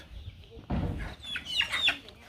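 Sonali chickens on a poultry farm give a few faint, short clucks near the end, with a brief low thump before them against quiet background.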